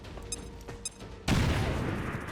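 Grenade explosion in the video game XCOM: Chimera Squad, a sudden loud broadband blast hitting partway in and sustaining with a rumbling roar, preceded by quieter game clicks and tones.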